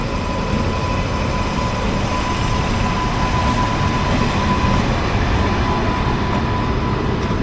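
Shirdi Mysuru weekly express hauled by Gooty shed WAG locomotive 32048, heard as a constant loud rumble and roar of the moving train with no break.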